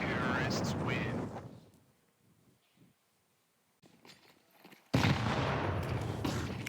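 A grenade blast in a Counter-Strike match at the StarLadder Budapest Major 2025, heard as dense gunfire and a loud explosive burst. Chaotic firing opens the clip, a quieter stretch follows, and then a sudden loud eruption starts another sustained barrage.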